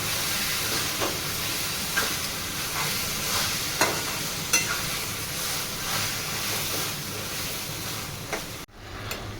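Brinjal bharit stirred in a pan, a steady sizzling scrape with soft periodic knocks of the spoon against the pan, close and continuous, ending with a brief pause.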